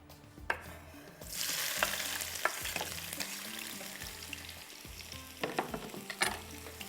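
Chopped onions hit a hot pan for halwa and fry with a loud, steady sizzle, a few clinks and stirring scrapes on top, close up with no talking.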